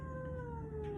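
A rescue cat, a feisty young female, lets out a sustained, drawn-out meow of complaint after being picked up, close and fairly quiet, without any talking.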